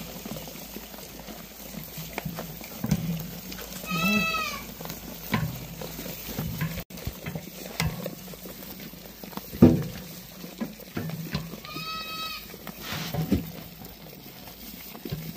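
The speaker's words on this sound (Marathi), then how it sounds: "सोयाबीनचं बुसकट शेळ्या खूप आवडीने खातात." Goats feeding on soybean husks let out two separate bleats several seconds apart, over quiet rustling and munching nearby.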